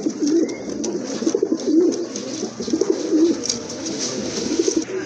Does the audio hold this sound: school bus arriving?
no